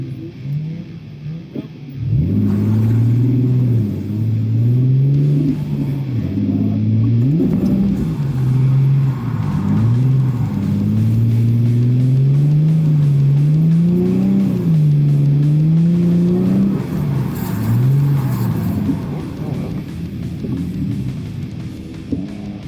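Drift car engine on a muddy circuit, heard from inside the car: a loud, continuous revving roar that climbs and drops in repeated surges during clutch kicks, with a rumbling low drone throughout.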